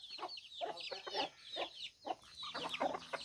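A rooster clucks among small chicks pecking at scattered corn on a small farm in the early morning, giving short repeated clucks over thin high peeping, close by with no talking.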